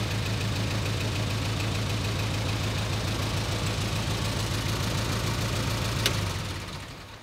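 Close, steady idle of a vintage Plymouth car engine about a century old, a low rhythmic throb with slight knocking that holds evenly for several seconds before tapering off at the end.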